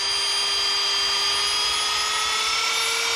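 A rotary tool with a felt polishing pad spins at high speed on vintage aluminum Airstream letters, a steady, loud, high-pitched whine holding constant throughout with no talk.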